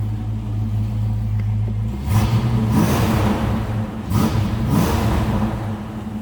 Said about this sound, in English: let's give it just a little blip so you can hear it